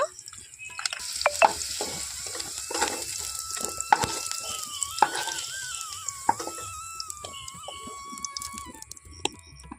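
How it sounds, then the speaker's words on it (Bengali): Dry red chili and bay leaves fry in hot oil in a wok for an aloo paneer dish, giving a soft, continuous close sizzle with light stirring clinks and a thin whining tone. "কড়াইতে যেহেতু তেল আছে আর তেল দিলাম না এখানে একটা শুকনো লঙ্কা আমি কেটে দিলাম দিয়ে দিচ্ছি দুটো তেজপাতা"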